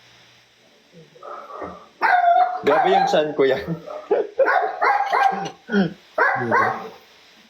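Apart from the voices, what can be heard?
dogs barking outside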